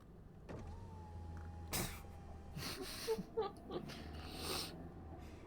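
A car power window hums steadily, broken by clicks, thumps and a few short mechanical bursts, recorded quietly.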